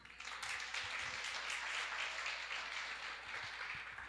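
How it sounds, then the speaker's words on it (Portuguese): A church congregation claps together in steady, dense applause, moderately distant and even throughout, with no talk over it. "Você pode aplaudir o Senhor?"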